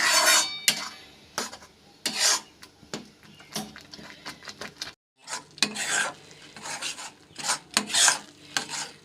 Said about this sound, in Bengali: এখন আঁচটাকে বাড়িয়ে নিয়ে খুব ভালোভাবে নাড়াচাড়া করে নিতে হবে যতক্ষণ না ভরটা একদম শুকনো শুকনো হয়ে কড়াইয়ের গায়ে লেগে আসছে